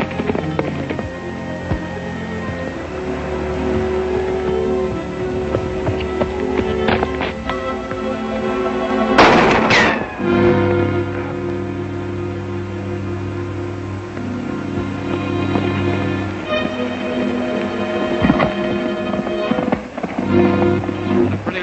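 Gunshots ring out in a 1937 western shootout on the range: a loud cluster of sharp cracks near the middle, with a few scattered reports before and after over a steady background of hoofbeats and movement.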